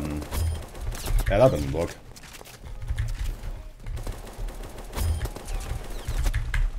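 Tec-9 gunfire in the Roblox shooter Aimblox, scattered bursts of close shots that come and go, with a player talking briefly over the action.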